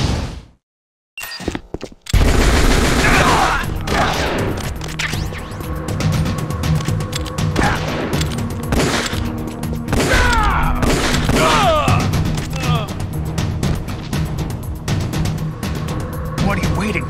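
Gunfire in the video game Metal Gear Solid: The Twin Snakes, repeated loud shots and impacts over a busy soundtrack, mixed with voice lines and shouting.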